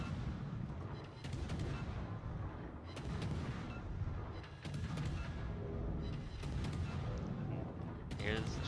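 Naval gunfire in World of Warships: heavy booming shell blasts recur in bursts with sharp cracks, set against a constant low engine-like rumble, loud and close.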